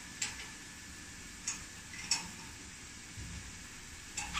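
A spray painting machine's angle adjustment being locked, heard as a few sharp, faint metallic clicks spaced across a low, steady background hum.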